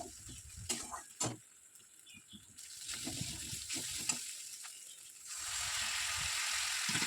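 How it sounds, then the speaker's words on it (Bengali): Ginger, garlic and green chili paste frying in a pan, a soft sizzle with a few stirring clinks early on, the sizzle growing louder and steadier toward the end. "এরপরে দেব আদা রসুন আর কাঁচা লঙ্কা যে পেস্টটা তৈরি করে রেখেছিলাম সেই পেস্টটা দিয়ে ভালোভাবে"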